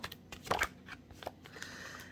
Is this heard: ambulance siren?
no